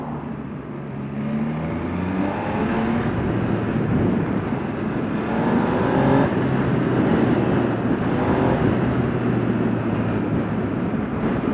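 Steady, loud engine drone of an MV Agusta Stradale super naked motorcycle while riding, with rising and falling pitch through gear changes and wind noise, no voices.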